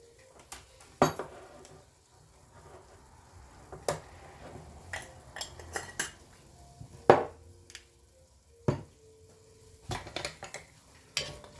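A spoon scrapes and clinks against a pot while potato soup ingredients are stirred. The sharp metallic knocks come at irregular intervals over a quiet background, close to the listener.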